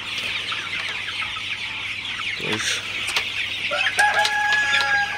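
A flock of 46-day-old Sonali super hybrid chickens clucks steadily nearby, and a drawn-out crowing call rises clearly over the chatter in the second half.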